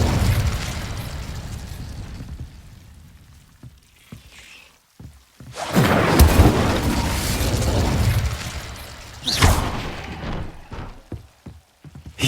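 An Incendio fire spell cast in Hogwarts Legacy, loud whooshing bursts and booming flares with a crackling roar, several swells separated by brief lulls and sharp pops, no voices.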